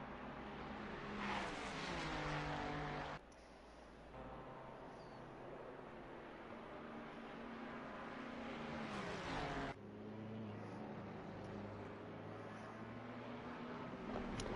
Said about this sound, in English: that Mustang is very powerful in a straight line, but so is that Ferrari, especially in a slipstream